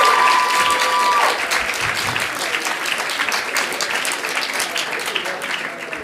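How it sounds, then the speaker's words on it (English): At a student hustings, an audience gives a sustained round of applause, dense and loud at first and easing slightly toward the end, with a faint tone briefly at the start. "We get a round of applause for our"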